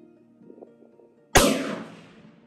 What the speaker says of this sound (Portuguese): Eu vou dar mais dois tiros para ver se a gente consegue aproximar sem precisar mexer na questão do retículo da luneta